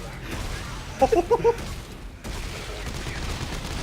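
Gunfire in the video game Dead Space 3: a quick cluster of about five sharp shots in a rapid burst, fairly close, over a steady game background with players talking.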